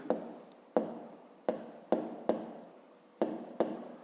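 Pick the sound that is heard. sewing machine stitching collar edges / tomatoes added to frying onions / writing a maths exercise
writing a maths exercise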